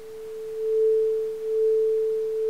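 Long synthesized tone from a Max patch holds a single steady pure pitch like a sine wave for several seconds, with a faint noisy hiss underneath and slight swells in level.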